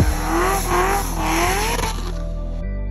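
A procharged C7 Corvette making over 900 horsepower, its engine loud and close with a rising, wavering whine over a deep steady drone that cuts off abruptly near the end.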